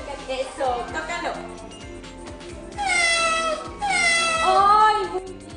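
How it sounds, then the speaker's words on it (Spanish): A cat meows repeatedly in a multisensory lab, with several drawn-out, wavering cries rising and falling over a few seconds, close and clear, alongside people talking. "¿cómo le hace el gato?"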